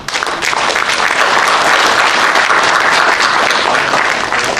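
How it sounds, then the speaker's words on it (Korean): At a book launch event, a crowd gives a professor loud, sustained applause that stays dense and even from start to finish. "우리 손학택 교수님께 다시 한번 뜨거운 박수, 감사의 박수 부탁드립니다"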